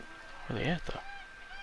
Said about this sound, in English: There are geese.